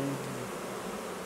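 Honey bees buzz steadily at an open beehive during a beekeeping inspection, a dense, continuous drone close by with no talking.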